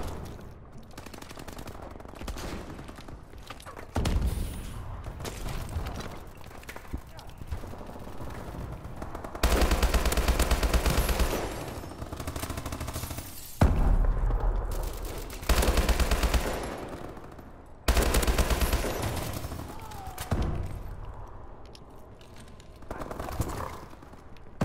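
Automatic gunfire in the first-person shooter Advanced Warfare on an urban map, loud rattling bursts alternating with quieter stretches of distant shots and game ambience.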